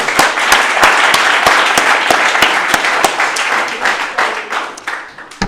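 A school audience at Buckley Country Day School's eighth grade speeches claps for Erica, class of 2018, in loud, dense, continuous applause that holds steady and thins slightly near the end.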